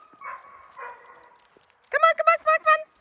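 Seven-week-old fox red Labrador puppies yip and bark outdoors in a burst of four or five sharp, high calls near the end, after a stretch of softer background sound and a person's voice.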